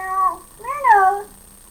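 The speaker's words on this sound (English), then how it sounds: "You can hear it with my cat Cyrano." A cat meows twice nearby, a short meow followed by a longer, rising and falling one, with no talking.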